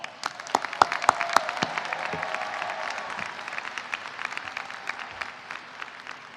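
Applause rises for graduates at a high school graduation ceremony, a crowd clapping steadily with sharp, distinct individual claps standing out near the start, then settling into a softer, even patter that continues throughout, somewhat distant.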